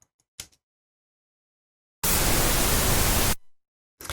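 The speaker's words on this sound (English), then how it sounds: "So we'll go with, how about a heavy chorus?" Noise processed with a heavy chorus flanger effect bursts in abruptly as a loud, dense hiss lasting just over a second, cut off cleanly, with short clicks and fragments before and after in otherwise silent surroundings.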